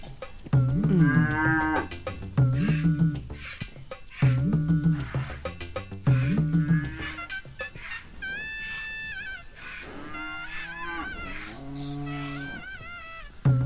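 A cow moos repeatedly, several long, loud, drawn-out calls in a row, followed by a few softer, higher-pitched moos.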